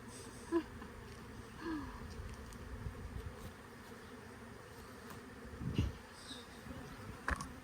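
Honey bees buzzing around hives in season, a low steady drone with occasional louder passes close by and a few brief knocks, no talking.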